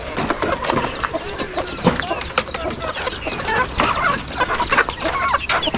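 A flock of chickens clucking and squawking busily, close by and overlapping constantly, with a few bird calls mixed in.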